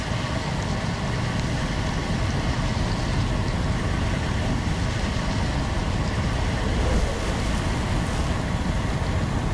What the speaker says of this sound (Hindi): हर 2 घंटे में पानी का फव्वारा फूटता है जो हवा में 60 मीटर ऊंचाई तक जाता है